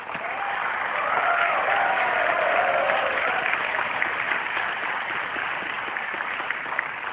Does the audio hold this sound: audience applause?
yes